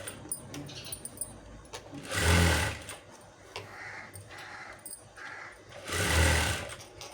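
A sewing machine runs in two loud bursts of rapid stitching on blouse fabric, with quieter handling noises between them and no talk.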